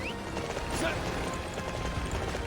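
Steady clip-clop hoofbeats of a galloping horse in the video game Dynasty Warriors 9 run at an even rhythm throughout, with someone talking over the game sound.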